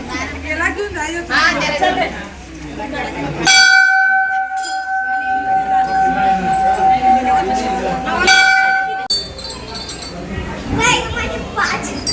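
A temple bell rings with bright sustained metallic tones that hang and fade, loud and near amid chatter and children's voices at a temple visit.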